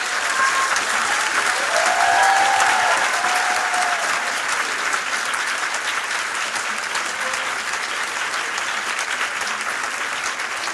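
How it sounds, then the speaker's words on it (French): At a diploma ceremony, a large audience gives sustained, even applause for the teachers, a dense wash of clapping lasting around ten seconds, loud and continuous with faint murmurs and a brief whistle-like tone near the start. "Et je crois que vous pouvez les applaudir beaucoup."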